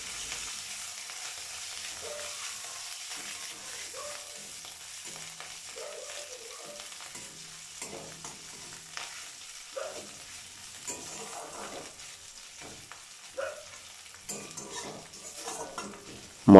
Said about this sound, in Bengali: এবার সমস্ত উপকরণ ভালো করে কষে নেব।